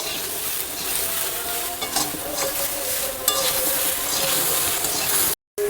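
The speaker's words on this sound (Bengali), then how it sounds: "আমি সবজিগুলো পরিমাণ মতো লবণ দিয়ে দিচ্ছি, দিয়ে ভালো করে কষালে তাড়াতাড়ি এটা কষানো হয়ে যাবে।" Vegetables with salt stir-fried in a pan, a loud, close sizzle with repeated scraping strokes of the spatula throughout, cutting off briefly just before the end.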